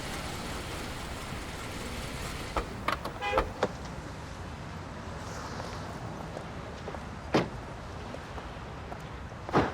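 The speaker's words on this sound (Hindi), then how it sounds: "यहाँ तो बहुत ज्यादा ट्रैफिक है" Heavy road traffic forms a constant dense roar. A few short car-horn toots and clunks break through at scattered moments.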